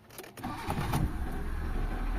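A Mitsubishi Lancer GLXi engine with a cold-start problem cranks briefly, then catches and settles into a steady, close idle that holds to the end.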